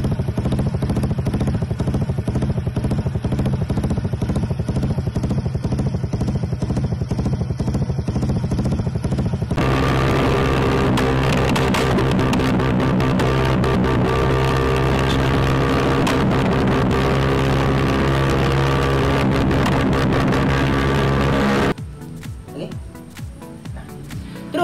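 A motorcycle engine with horse-gallop ignition timing idles with a loping, rhythmic chug, then revs up into a loud, steady roar with crackling backfire pops before cutting off abruptly.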